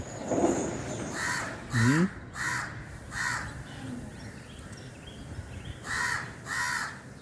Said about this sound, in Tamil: இந்த கட்டக்குச்சியில் ரெண்டு காக்கா குஞ்சு.